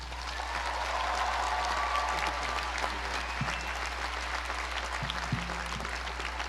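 Steady applause from a large audience welcoming Denzel Washington onto a stage, a dense even clatter of clapping sustained throughout at moderate distance with no voices over it.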